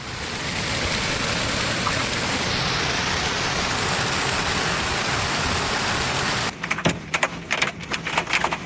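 Heavy hailstorm with driving rain in Denver, Colorado, a dense, loud roar of pelting ice and water that suddenly thins into scattered sharp hits on hard surfaces near the end.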